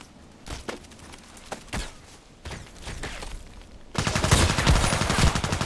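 Gunfire in the shooter game Contract Wars, a few scattered single shots at first, then a loud rapid burst of automatic fire near the end.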